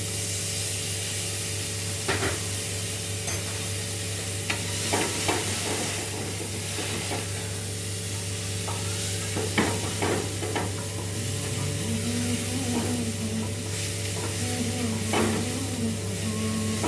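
Green peas sizzle steadily as they fry in a wok with asafoetida, while repeated scraping stirs cut through the hiss at irregular intervals, near and alone.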